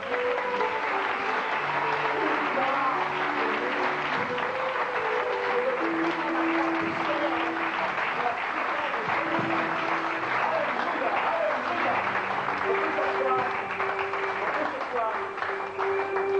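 Applause and cheering fill a church congregation throughout, steady and dense, while voices call out over the clapping.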